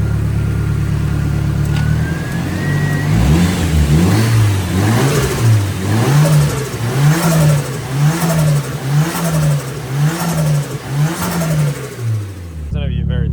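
A Nissan SR20 engine idles loud and close, then revs in a steady series of about eight rhythmic throttle blips, each rise and fall evenly spaced, with a brief whine before the revving starts and an abrupt cutoff at the end.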